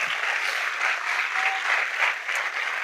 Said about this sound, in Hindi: आइए प्रभु के लिए जोरदार ताली बजाएंगे।